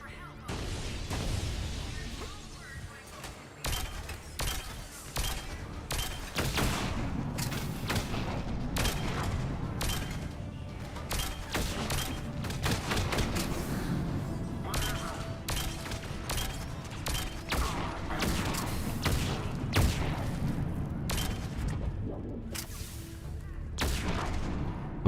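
Mass Effect combat with pistol fire: a dense, steady barrage of sharp gunshots and heavier booms that runs the whole time, with voices faintly mixed in.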